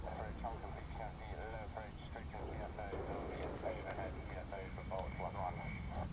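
An F-35B stealth fighter jet makes a low approach over an RAF airfield, its broad engine roar steady and moderately distant beneath someone talking throughout.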